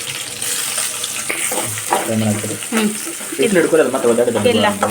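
Finely chopped onions fry in hot oil for a restaurant-style paneer masala, a steady bright sizzle with stirring scrapes that grows louder toward the end, under a voice speaking Kannada.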